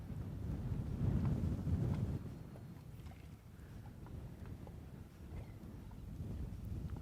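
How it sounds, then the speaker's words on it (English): Strong wind buffets the microphone during inshore fishing on the Gulf Coast, a steady low roar that surges loudest early on, then continues as constant rumbling gusts with no talking. "this wind is something serious"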